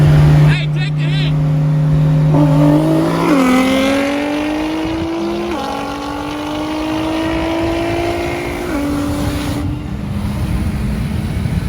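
A twin-turbo Dodge Viper racing on a street, its engine droning loud and close as the pitch climbs through long gear pulls with short shifts between them, while voices break in briefly near the start and end.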